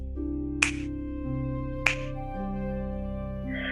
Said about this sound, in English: when I snap my fingers, first left and right